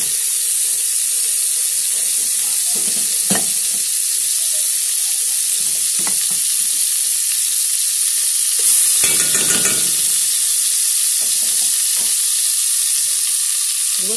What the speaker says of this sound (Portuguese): Agora eu vou adicionar 2 colheres de manteiga